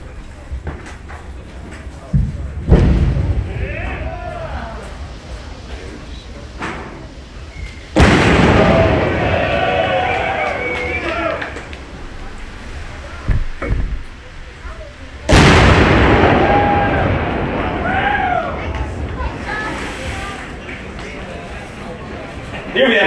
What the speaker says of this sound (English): You will also witness the detonation of some of these other expedient charges.